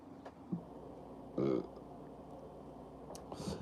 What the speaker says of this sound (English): Got a burp, guys.